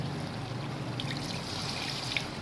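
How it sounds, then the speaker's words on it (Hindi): Water poured into beef kofta gravy in a pot, a steady near trickle and splash lasting the whole moment, with no voices. "अब हम इसमें ग्रेवी टाइप पानी डालेंगे"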